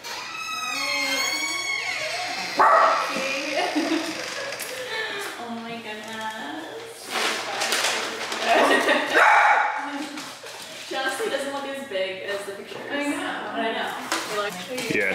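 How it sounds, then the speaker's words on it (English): A dog barks and yips repeatedly at home in short, loud bursts scattered through the clip, with people talking over and between the barks. "she's used to the barking"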